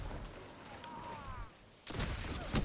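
Gunfire in Destiny, a quiet stretch then a sudden loud burst of rapid shots near the end, with a voice talking lightly beneath.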